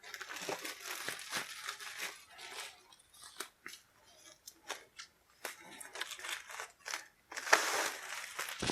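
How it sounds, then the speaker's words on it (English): Plastic wrap crinkles, crackles and tears as it is sliced and ripped off a cardboard tile sheet from the D&D Castle Ravenloft board game, close and irregular with short bursts and pauses. "Slice the little plastic off of there,"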